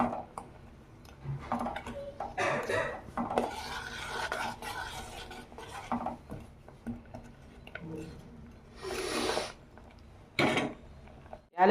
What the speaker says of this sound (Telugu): బెల్లం వేసుకున్నాక ఒక్కసారి గరిటె పెట్టి తిప్పుకుందాం.